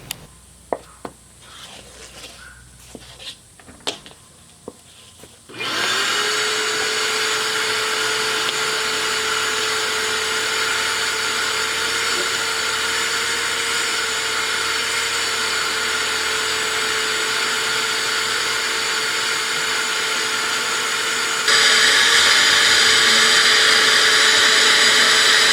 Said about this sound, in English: And I got the shop vac. I'm going to vacuum it out.